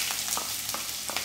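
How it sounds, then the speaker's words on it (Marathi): Onion frying with curry leaves and whole spices in hot oil for green mutton sukka, a close, continuous sizzle with faint stirring scrapes, no talking. "कांदा व्यवस्थित गोल्डन ब्राउन होऊ द्यायचा आहे।"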